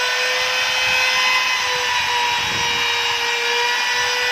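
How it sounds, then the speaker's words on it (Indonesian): A CNC router spindle motor spun up to maximum speed, a loud, continuous high-pitched whine with a steady tone and no pauses, close by. "Kita atur kecepatan motornya pakai ini sepindu, kita percepat maksimal"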